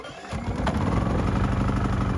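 MaXpeedingRods MXR6250iE 240-volt generator, brand new and recoil-started, catching and settling into a steady, loud, close engine drone with an even low-frequency chug throughout.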